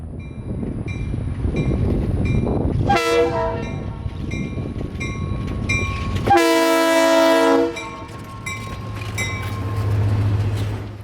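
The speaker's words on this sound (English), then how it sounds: "chase the Seminole Gulf Christmas dinner train as it heads north from Fort Myers to Punta Gorda" Seminole Gulf Railway Christmas dinner train led by F7A and GP-series diesel locomotives, passing close and loud on the run between Fort Myers and Punta Gorda, horn blasting in long chords over steady rumbling wheels and clickety-clack.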